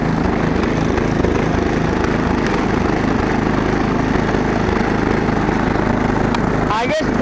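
Snowblower engine idling roughly after warm-up, a loud, close, uneven chugging drone that runs throughout and cuts off sharply near the end.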